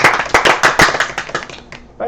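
A small group claps briefly at the end of a podcast slide presentation, a short patter of close hand claps that thins out over about two seconds.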